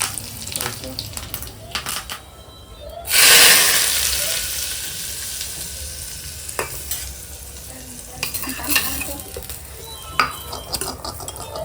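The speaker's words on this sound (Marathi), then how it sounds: "तेल आणि आता काय टाकायचं राई लाल मिरची कढीपत्ता" Mustard seeds, red chili and curry leaves drop into hot oil with a sudden loud burst of sizzling that fades into a steady crackle, followed by occasional clinks and stirring.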